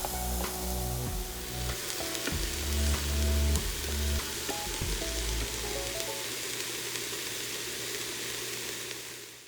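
Diced ginger and garlic fry with onions in a pan for a vegan kadai tofu and bell pepper dish, giving a steady, dense sizzle with a few soft stirring knocks early on, close and continuous with no talking.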